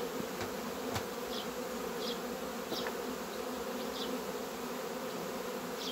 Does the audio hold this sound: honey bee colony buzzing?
yes